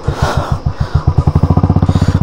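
A motorcycle climbs a steep off-road trail in Mussoorie, its engine thumping close and loud in a steady pulse that quickens as the rider opens the throttle.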